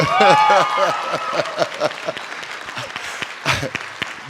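A convention panel audience cheers and applauds, a dense burst of clapping with shouts and whoops that starts loud and gradually thins out, with voices mixed in.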